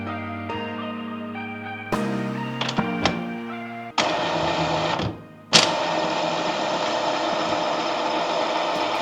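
An Epson EcoTank L3352 ink tank printer runs its initial ink charging cycle, with steady mechanical whirring and humming broken by clicks and abrupt shifts as the motors change pace, close and continuous.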